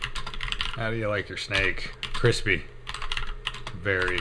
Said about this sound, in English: now there's going to be typing noises while I talk